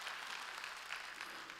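Congregation clapping during a Wednesday church service, a faint, steady patter of many hands heard at a distance, with no voices over it.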